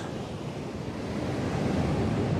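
Surf breaks continuously on a beach where people are surfing and bodyboarding, a dense, loud roar of waves mixed with wind buffeting the microphone. There are no voices.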